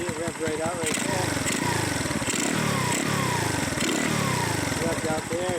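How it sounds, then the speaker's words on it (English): Repeated rising and falling revs from a 2024 X-Pro Storm 150 DLX motorcycle engine, loud and close, in a steady rhythm of several throttle blips while someone speaks over it. "Revved out there again."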